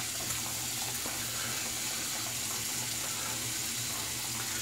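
Cold water runs steadily from a tap into a sink for a wet shave, a constant close hiss and splash with no pauses.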